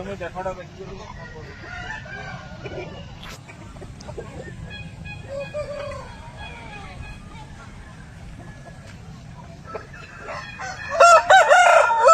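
An Aseel rooster crows loudly near the end, after a stretch of soft clucking and background voices.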